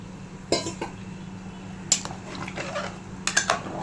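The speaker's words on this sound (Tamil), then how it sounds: "நான் இதில் தேங்காய் பாலை மிக்ஸ் பண்ணுறேன்" A spoon stirs coconut milk into a metal pot of moong dal and sago payasam, with scraping and a few sharp clinks against the side over a low background hum.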